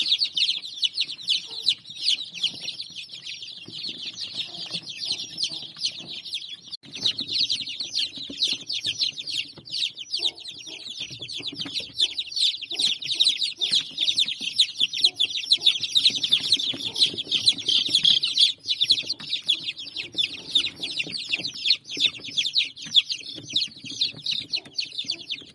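Incubator-hatched chickens keep up a continuous, dense chorus of high, overlapping peeps and calls, close and busy throughout, with no one speaking.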